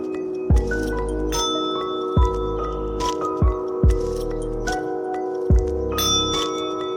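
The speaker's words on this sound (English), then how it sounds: "Take a second to use my bell." A small bell struck about six times at uneven intervals to open a tarot reading, each ring clear and close with a bright tone that hangs and fades over a steady low hum.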